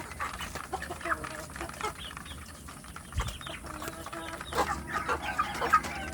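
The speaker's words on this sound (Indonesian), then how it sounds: "menikmati melihat perkembangan anak ayam kampung kita yang sudah besar-besar" Young village chickens in a coop: scattered clucks and soft calls over a steady background hum, moderately close, with occasional louder squawks toward the end.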